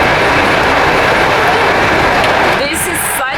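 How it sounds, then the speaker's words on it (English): An old Soviet passenger train rolls along rails in Uzbekistan with a loud, continuous rumbling roar heard from inside, ending in a brief high metallic squeal and a sharp clatter. "This is such an old train. It's Soviet"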